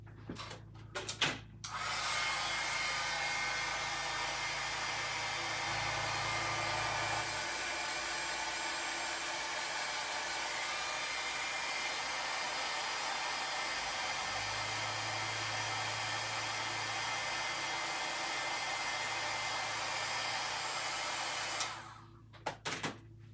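A heat gun blows hot air to set embossing powder, one loud continuous whoosh lasting about twenty seconds, with a slight shift in tone partway through. It starts and stops with clicks.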